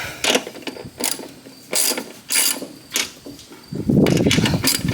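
A ratchet clicks in short bursts while a part on a cheap welder is tightened, several quick close rattling runs separated by brief pauses, ending in a longer grinding run.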